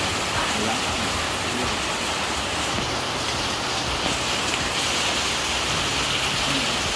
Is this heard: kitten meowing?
no